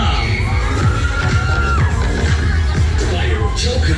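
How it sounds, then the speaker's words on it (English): Riders scream and shout on a fast fairground ride at Goose Fair, a loud continuous crowd roar with overlapping yells and the rumble of the ride close up. "Somebody scream if you want to go faster."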